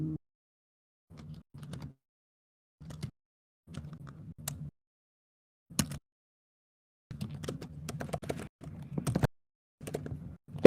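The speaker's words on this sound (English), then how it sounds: "I'm sorry if the typing is very loud." Keyboard typing in irregular bursts of rapid clicks separated by pauses, moderately close and otherwise quiet.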